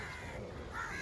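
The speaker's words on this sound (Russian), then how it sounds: "Конечно, вороны в первую очередь." Crows caw faintly at a distance on a beach where dogs are fed in Arambol, with a brief harsh call rising over a steady outdoor background.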